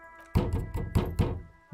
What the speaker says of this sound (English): Stop banging on the door.